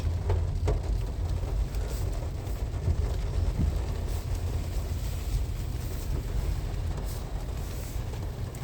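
Steady rain falls around a car on a city street in Dnipro, a dense continuous wash with low road rumble and no talk, holding at an even loudness throughout.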